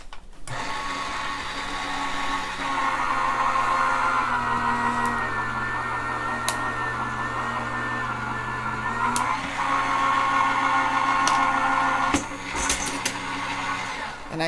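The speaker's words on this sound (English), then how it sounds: "Okay, so I'm going to run this through our machine." A die cutting machine grinds steadily as an Anna Griffin impression die and its plates are fed through, a continuous motorized drone running for most of the stretch with a brief click near the end.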